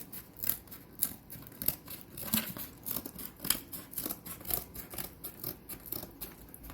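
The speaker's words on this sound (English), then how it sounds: "I'm gonna cut it a little smaller." Scissors cut a faux floral stem smaller, giving repeated crisp snips and clicks at an irregular rhythm, close and fairly quiet, with light rustling between cuts.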